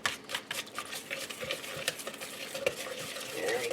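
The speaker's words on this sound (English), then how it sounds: "let's beat in our 1/3 cup of flour" Flour is beaten by hand into an egg and vegetable mixture in a bowl, producing quick, irregular scraping and clicking strokes close by, steady throughout with no talk.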